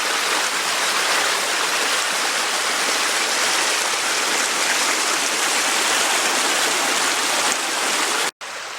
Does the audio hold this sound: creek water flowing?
yes